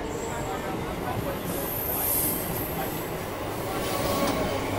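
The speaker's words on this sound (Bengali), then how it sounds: "এই ট্রেনটা তোমার ব্যান্ডেল থেকে আসছে নৈহাটি যাচ্ছে" A Bandel–Naihati local train rolls along, steady wheel rumble with squealing wheels and faint clatter, loud and close from on board, with no talk over it.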